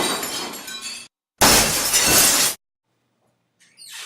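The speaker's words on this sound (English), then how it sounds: "he accidentally knocks into 2 glasses of water, and they fall on the floor and shatter" Two water glasses knocked off and smashing on the floor in two bursts of shattering glass, the second louder and longer, followed by silence and a faint tinkle of settling shards.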